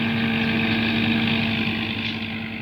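A tractor, beside a trolley, runs its engine with a steady, close droning hum at constant speed, easing slightly quieter toward the end, no talking.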